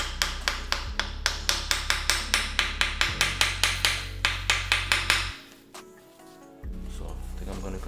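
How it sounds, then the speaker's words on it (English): A hammer strikes a part on a Nissan Skyline R32 GT-R during an RB26 oil system upgrade, giving a rapid, even series of sharp metallic knocks over a low engine-like hum, then stopping suddenly. "I think I'm gonna use my hammer though"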